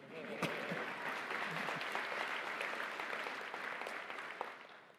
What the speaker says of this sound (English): you can clap for Cesar.